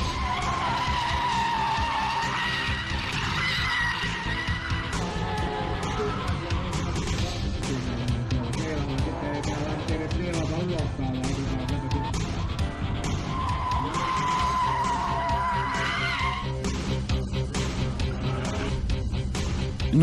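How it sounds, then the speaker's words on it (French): A race car skids out of control on track during a competition, a loud sustained tire squeal and engine roar running continuously and close, with a second strong squealing burst near the end. "Et parfois la voiture échappe au contrôle, comme c'est ici le cas."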